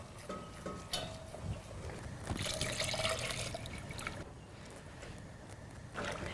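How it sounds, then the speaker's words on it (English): Milk is poured slowly into a pan for a sauce, making a soft continuous liquid trickle and gentle sloshing that swells in the middle and then settles, close and fairly quiet, with no talking. "And then we slowly start adding the milk."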